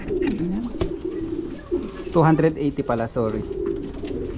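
Racing pigeons cooing in low, rolling calls close by, with a voice speaking over them partway through.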